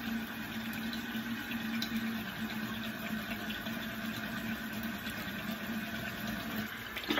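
A bathroom tap runs steadily while face cleanser is rinsed off, giving a continuous, even rush of water at moderate distance with no pauses and no talking.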